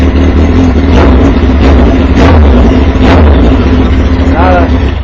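A 2005 Kawasaki ZX10R engine runs steadily with its exhaust valve open, a loud, dense, continuous mechanical drone, with a voice over it.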